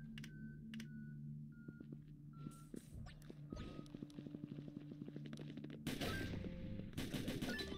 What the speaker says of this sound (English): Nice, good shooting.